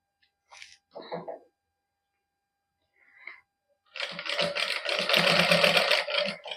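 A sewing machine stitches lace onto a suit in a Punjabi boutique, a few short bursts early, then a loud, steady whirring run of stitching for the last few seconds, with brief speech in between.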